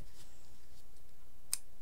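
A single short snip of scissors cutting yarn or paper while making a craft elf, one crisp click near the end of an otherwise quiet stretch.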